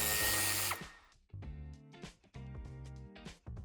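A power tool whirs loudly as it backs out tail light screws on a 2019 Toyota Corolla Touring Sports, then runs in several shorter, quieter bursts with brief pauses between them.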